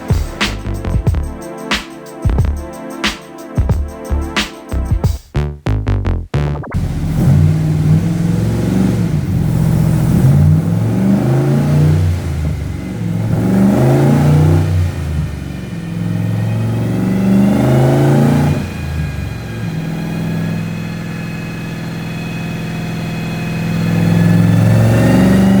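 A slammed 1960 Chevrolet Apache truck engine on a dyno, loud and close: a few sharp blips up front, then a sustained roaring pull that climbs and swells for about twenty seconds before settling and surging again.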